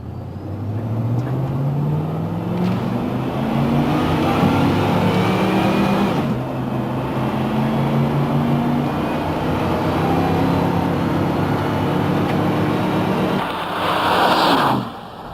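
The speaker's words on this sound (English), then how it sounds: "Let's try some upshifts at 3/4 throttle and feel the shifts." A vehicle with an E4OD/4R100 automatic transmission accelerates hard on a road test, engine rising in pitch and dropping at each upshift, a steady loud drone heard from inside with no talk.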